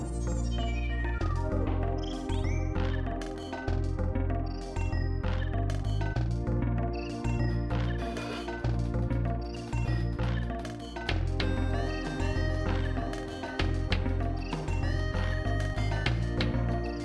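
A cat meows repeatedly at night, its cries mixed under loud, continuous music with steady drums.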